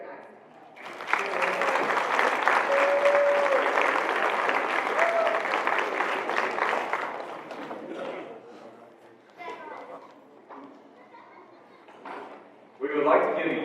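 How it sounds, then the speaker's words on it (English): Audience applause at a high school FFA banquet as Cleveland FFA alumni members stand to be recognized, a dense sustained round lasting several seconds before tapering off into a voice addressing the room. "Please give a big round of applause to the members of the Cleveland FFA alumni as they stand to be recognized."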